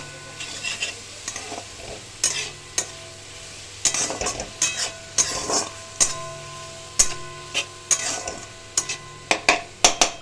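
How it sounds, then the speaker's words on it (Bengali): Onions with a little salt frying in a pan over medium gas, a soft continuous sizzle broken by frequent scraping and stirring strokes of a spoon against the pan. "বন্ধুরা দেখো এখানে পেঁয়াজটা ভাজা হয়েছে"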